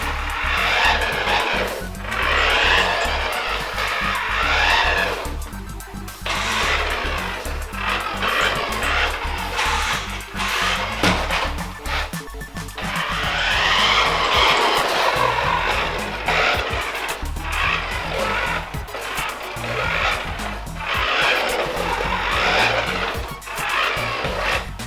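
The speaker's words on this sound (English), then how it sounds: "I just wanted to give you a bit of a look at the vehicle driving around so you can see it working" A Rastar 1/14 scale RC Ferrari 458 drives around, its small electric motor whining steadily and loudly with surges and brief dips as it accelerates and turns, tires scuffing across the surface.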